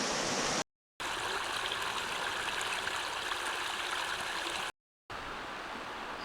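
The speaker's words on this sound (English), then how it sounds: "Just the sound of water." Creek water flowing steadily during rain in New York, a continuous close broadband rush with a couple of brief dropouts.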